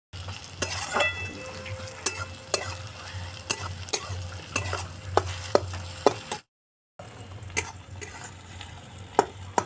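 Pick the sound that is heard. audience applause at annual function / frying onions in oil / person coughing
frying onions in oil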